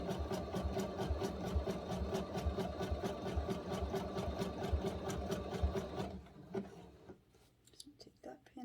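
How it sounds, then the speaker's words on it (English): A sewing machine stitches denim in a fast, even rhythm for several seconds, then stops, followed by a few soft handling clicks. "first time using my sewing machine"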